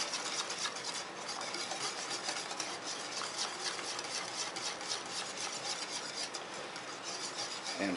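Orange cream ice cream mixture gets stirred in a bowl, a steady, soft scraping and rasping of utensil against the container that continues without pause, close and quiet with no talking.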